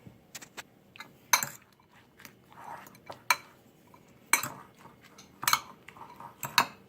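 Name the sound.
mixing spaghetti squash fritter batter with processed cheese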